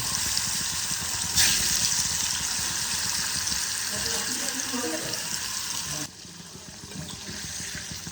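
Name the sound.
paneer cheese frying in a pan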